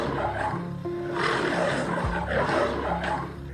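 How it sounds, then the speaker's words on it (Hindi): A lion in a Hindi children's jungle story lets out a low, rumbling roar that rises and falls over about three seconds, mixed with other wild-animal sound effects and a faint background tone. "तभी उसे शेर की आवाज सुनाई दी"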